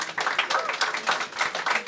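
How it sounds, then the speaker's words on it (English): Applause from a seminar audience honoring the panelists of a music marketing panel discussion, a steady patter of many hands clapping throughout, moderately loud and close. "Round of applause for our panelists."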